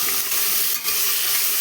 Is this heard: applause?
no